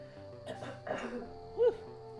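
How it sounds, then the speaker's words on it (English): A couple of muffled coughs sound close by over a faint electronic hum, followed by a brief vocal noise. "I'm gonna mute my mic while I cough"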